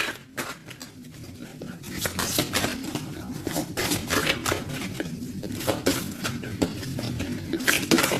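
Tarot cards being shuffled and mixed by hand, a close, continuous rustling patter of card edges with sharp flicking clicks in irregular bursts.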